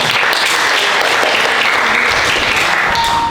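Classmates in a school classroom clap together in steady, dense applause that stays loud from start to finish, with no voices rising above it.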